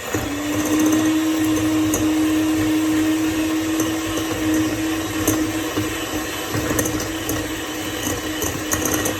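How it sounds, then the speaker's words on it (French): An electric hand mixer beats 150 grams of butter with 150 grams of sugar for a pineapple upside-down cake, giving a steady, close, high motor whine that holds level throughout with faint rattling and no speech. "150 grammes de beurre et 150 grammes de sucre que je vais, avec mon batteur, je vais les mélanger"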